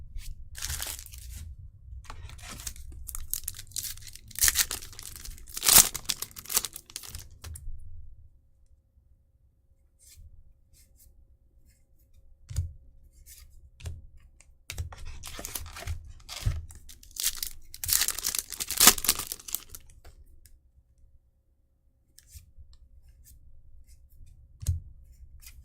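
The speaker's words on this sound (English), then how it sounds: "the sound of these packs opening is satisfying" Packs of baseball and Doctor Who trading cards are torn open one after another, crisp ripping and crinkling foil wrappers in close, loud bursts separated by quiet pauses, with no talking.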